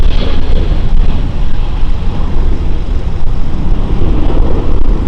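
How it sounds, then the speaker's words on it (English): An Airbus A321neo on its full-runway takeoff roll at Lisbon Airport gives a loud, continuous jet roar with deep rumble, close and unbroken throughout. "He's taking off. Full runway. So this is the Airbus A321neo we saw earlier taxiing."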